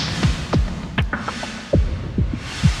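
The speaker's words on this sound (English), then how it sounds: "So you filter the drum bus, but your reverb sends are unfiltered and it doesn't sound good." Sparse drum hits with low, boomy thumps and a washy, bright reverb tail hanging over them, the hits spaced irregularly and dry-sounding against the wide wet ambience.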